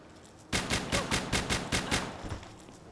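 Turret gunfire in a video game, a rapid burst of about eight evenly spaced loud shots over roughly a second and a half, starting abruptly and trailing off into a faint background.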